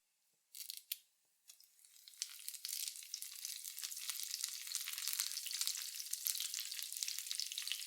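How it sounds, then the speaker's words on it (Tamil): Mustard seeds splutter in hot oil for a tomato thokku: a few sharp pops at first, then a dense, steady crackling sizzle up close. "எண்ணெயில் கொஞ்சம் கடுகு போட்டுடலாம். கடுகு லைட்டாக பொரியட்டும்."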